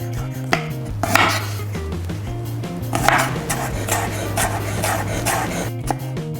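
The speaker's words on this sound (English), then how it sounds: "First thing we're going to do is to cut the garlic. So just smash it down." A knife smashes and chops garlic on a cutting board, with several sharp thuds and a run of quicker chopping strokes, close and clear.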